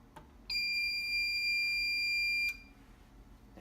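A Fire-Lite MS-4 fire alarm system under test sounds one steady two-second electronic tone through its low frequency sounder, loud and close in a quiet room, then cuts off.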